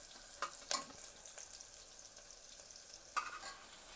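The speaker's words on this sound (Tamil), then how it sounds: "இப்போ பாருங்கள், ஆனியன் நல்லா ஃப்ரை ஆகிடுச்சு" Onion fries in a pan with a soft, faint sizzle. A few sharp stirring scrapes stand out above it.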